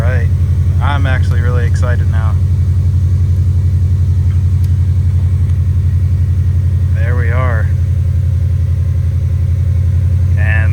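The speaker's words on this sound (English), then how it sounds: "Cold start for the boys." A Subaru Impreza engine after a cold start, a loud steady low idle droning close by, with someone talking briefly over it twice.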